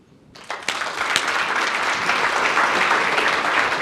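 An audience at a credit union executive presentation breaks into applause after a speaker's closing thanks, rising from a few sharp claps into sustained, full clapping that holds steady to the end.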